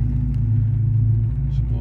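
A loud truck engine idles and rumbles with a deep, steady drone close by, with no gaps.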